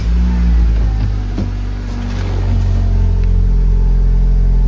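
A Honda Civic engine runs with a steady low rumble and idle hum, rising briefly as it catches, heard up close and loud throughout.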